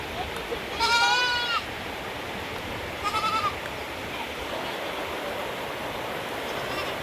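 Goats bleat twice beside a river on a rainy day, each call a loud wavering cry, and the second is shorter. A constant rushing of water runs underneath.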